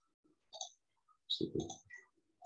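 A few sharp computer mouse clicks in quiet surroundings as an attribute table is opened in QGIS, including a louder cluster of clicks near the middle.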